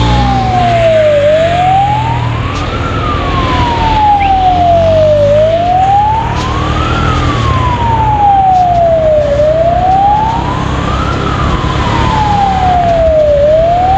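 Ambulance siren on the road, a loud wailing tone that sweeps slowly up and down in repeated cycles over steady road and traffic noise, with no talking.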